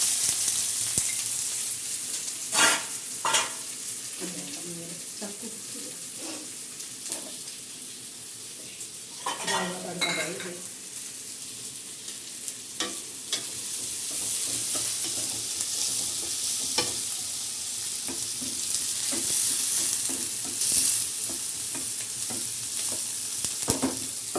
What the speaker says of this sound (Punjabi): ਦਾਲ ਲਈ ਤੜਕਾ